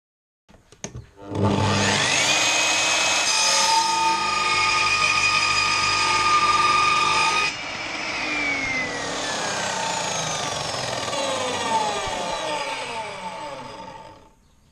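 An Evolution Rage 3S radial miter saw spins up and bites through material in one long 45-degree cut, a sustained whining, grinding roar that shifts pitch midway, then winds down.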